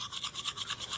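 A toothbrush scrubs briskly in rapid back-and-forth strokes, a close, bristly swishing that pulses evenly about five times a second.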